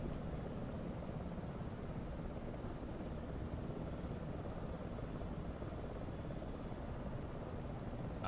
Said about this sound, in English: I didn't hear you asking because of all the awesome helicopter sounds over here